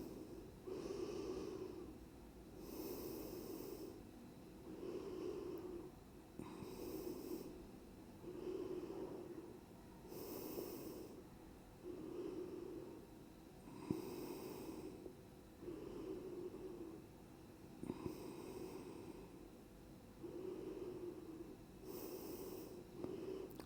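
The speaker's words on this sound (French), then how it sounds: "Ralentissez votre respiration." Slow, deep breaths during a yoga child's pose, each inhale and exhale audible and close, repeating at an even, unhurried pace with faint nasal hiss between them.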